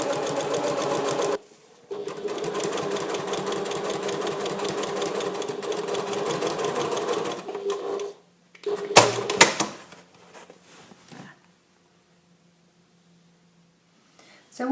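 A sewing machine runs steadily for several seconds, then again in shorter bursts, as lining fabric panels are stitched together; handling clatter and knocks follow between runs, with no speech.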